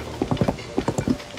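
Horse hooves gallop at a steady pace in The Legend of Zelda: Tears of the Kingdom, a run of quick, even clip-clop beats heard close up with no talk over them.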